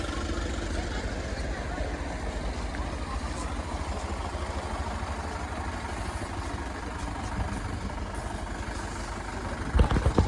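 A parked motorbike idles steadily with a low, even rumble throughout, close by, before a short louder burst near the end.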